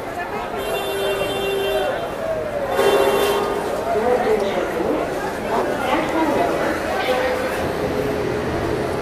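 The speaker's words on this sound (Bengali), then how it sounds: "প্রতিদিনের মতন হাওড়া স্টেশন যেমন ভিড় থাকে, তেমনই ভিড় রয়েছে এখানে" Busy crowd on a platform at Howrah railway station, a constant dense babble of many voices with announcements and whistles mixed in, loud and close throughout.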